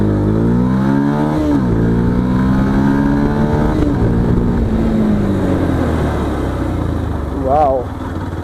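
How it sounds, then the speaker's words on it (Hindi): A Yamaha FZ-X 150cc motorcycle accelerates hard through its gears, the engine note rising and dropping with each shift, loud and close, while someone talks over the ride. "अभी इस बाइक को मैं आपको भगा के दिखाता हूँ कितनी ग्रंट है इस मोटरसाइकिल में।"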